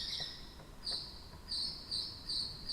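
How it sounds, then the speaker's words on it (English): Bird-call sound effect on a theatre organ in the Temple Theatre, a series of shrill, warbling whistled chirps in short bursts, fairly close and alone. "And then the bird."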